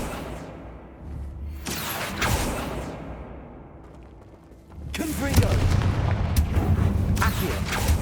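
Confringo fire spell from the video game Hogwarts Legacy, two loud explosive blasts with a fiery roar, the second longer and heavier, separated by a quieter rumbling lull; a voice is heard.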